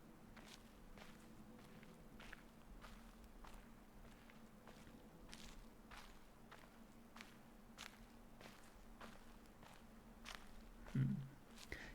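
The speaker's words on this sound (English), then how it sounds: "I'm only hearing one footstep noise this time" Footstep sounds inside a puzzle video game maze, a steady run of soft, quiet steps repeating at an even pace over low background hum, with no talking.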